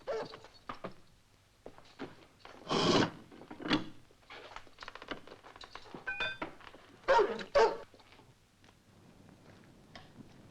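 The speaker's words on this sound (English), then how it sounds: "All quiet. Dog's a bit restless." A restless dog barks in short, scattered bursts in a quiet night setting, a few louder yelps standing out among fainter clicks and shuffling noises, with no talk.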